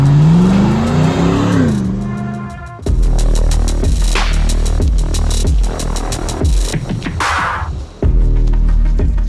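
A 1997 Land Rover Defender 110 with a 430 horsepower GM LS3 engine and six-speed automatic drives by. The engine revs loudly in repeated surges and gear changes, with sharp throttle pulses and a strong, throbbing roar.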